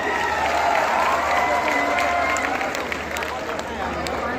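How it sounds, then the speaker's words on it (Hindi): Crowd at an outdoor political rally in Gorakhpur, India, applauding a local MLA, a broad steady wash of clapping and cheering that holds for the whole stretch, with babble and voices mixed through it. "आपके यहाँ एक जोरदार ताली हमारे माननीय विधायक"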